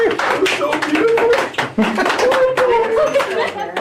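A small group claps in a scattered, uneven patter, mixed with voices and light chuckles.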